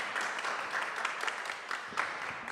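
Applause from a parish audience at the close of a French talent evening, a steady wash of clapping running through the whole moment without pause.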